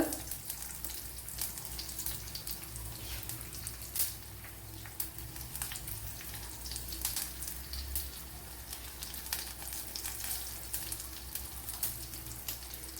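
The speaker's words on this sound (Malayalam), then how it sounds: "ഉള്ളി ഇട്ട് കൊടുക്കുക" Onions fry in hot oil with mustard seeds in a pan for a Kerala-style dish, giving a continuous close sizzle with crackling pops throughout, no voices.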